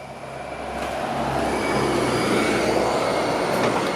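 A New Flyer D40LF hybrid city bus on Route 79 rolls past on a Toronto street, a loud, steady rumbling roar that builds gradually over a few seconds.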